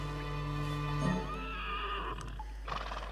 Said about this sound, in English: No, it's Rainbow Dash snoring like a horse.